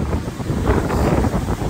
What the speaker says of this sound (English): Watching the waves crash in.